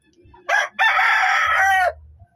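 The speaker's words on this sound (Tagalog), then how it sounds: "O tapos, mayroong mga manok." A rooster crows once, loud and close, with a short first note and then a long drawn-out call, while low clucking from chickens sits underneath near the end.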